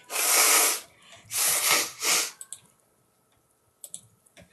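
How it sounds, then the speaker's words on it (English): A woman blows her nose in a few bursts of loud, breathy, nasal honking up close, broken by short pauses, then quick snuffling clicks trail off near the end. "Let me blow my nose, people."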